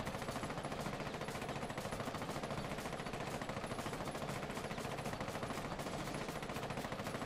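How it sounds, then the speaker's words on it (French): Rapid automatic fire from Ying's gun in the video game Rainbow Six Siege, a dense, continuous burst of shots at a steady rhythm, loud and close, running unbroken throughout. "on va commencer tout de suite avec une arme qui vous a fait trembler, c'est l'arme de Ying"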